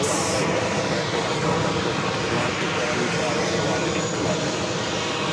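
Airplane noise at JFK airport in New York, a steady broadband roar that holds at the same level throughout, with no clear peaks or breaks.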